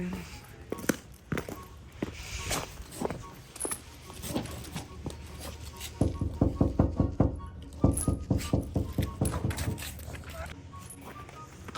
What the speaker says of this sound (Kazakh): Қақтым қатты, енді оянбаса білмеймін